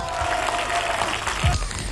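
Brief applause from a modest audience of about twenty supporters at a 1993 Roman song festival, a short dense patter of clapping over a low room rumble.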